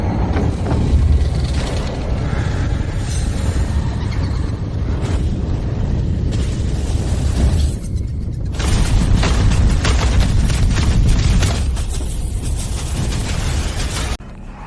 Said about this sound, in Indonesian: Para leluhur keluarga Wijaya semuanya meledak